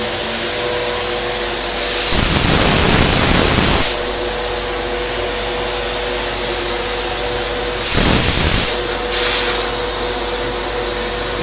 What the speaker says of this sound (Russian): Все, вытяжка начала работать.